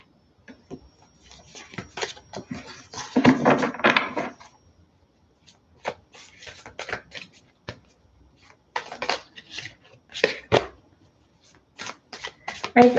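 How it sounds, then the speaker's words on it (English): Tarot cards shuffle in repeated bursts of riffling and slapping, close and fairly loud, with short pauses between bursts and faint clicks. "Going to keep shuffling for Virgo."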